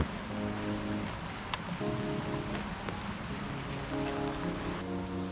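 Steady rain pattering on an I-Motor Vapor electric motorbike outdoors, a dense continuous hiss with a low droning hum underneath and faint periodic clicks throughout.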